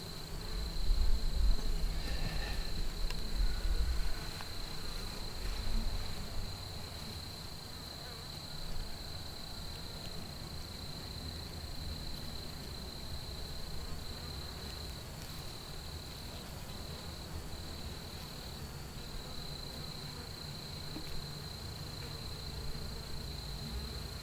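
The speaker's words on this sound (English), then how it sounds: "Now it's covered with bees." Honey bees hum steadily over a hive frame lifted from a horizontal hive during an inspection for small hive beetles, a continuous close insect drone with faint rustling underneath.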